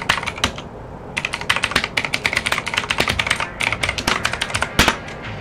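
Rapid typing on a computer keyboard during a programming session, a dense burst of sharp key clicks with brief pauses and a few louder strokes, close and alone.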